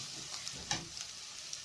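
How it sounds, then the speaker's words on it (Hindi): Onions fry in a pan on their way to golden brown. A soft, fairly faint sizzle holds steady, with a few light knocks of stirring and no voices. "यहाँ पे हम अपनी प्याज गोल्डन ब्राउन करेंगे।"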